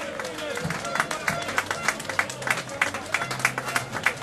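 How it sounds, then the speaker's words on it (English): At a St. Patrick's Day parade in Athy, a crowd claps for county champion footballers, a rhythmic burst of fairly faint clapping with some background crowd noise. "give them a huge round of applause, lads"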